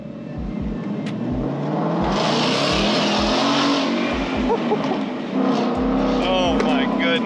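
Ford Mustang GT converted to a Shelby GT500 driving, a deep engine roar heard from inside as it accelerates, with low rumbling bursts, under people talking.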